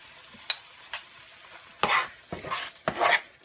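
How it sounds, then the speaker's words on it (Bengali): Tomato puree fries with onion and garlic paste in a pan, with a soft steady sizzle and several sharp stirring scrapes that grow busier toward the end, close and without talk. "পেঁয়াজ রসুন বাটা, তার মধ্যে আমি টমেটো পিউরিটা দিয়ে একদম ভাজা ভাজা করে নিয়েছি"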